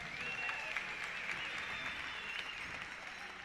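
Faint, distant crowd applause at an outdoor Thanksgiving pow wow during a flag presentation, a soft steady patter with a thin high tone drifting over it.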